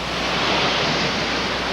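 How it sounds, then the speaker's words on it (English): Whitewater Falls, a large waterfall, cascading in a steady, dense roar of rushing water that stays loud and close without break, with no voices over it. "This is Whitewater Falls, and it's beautiful."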